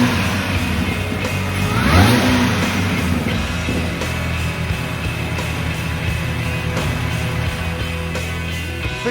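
A rebuilt Mini R53 engine runs close by with a steady, even idle hum, with a brief rising sweep near the start as the motor note shifts.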